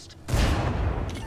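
Tank gunfire from behind in World of Tanks lands as one sudden heavy boom after a brief quiet, then a dense rumbling tail that fades slowly.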